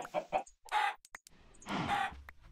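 Chickens in the video game Minecraft cluck in several short bursts, a quick pair of clucks followed by two longer squawking calls, fairly close and alone without talk.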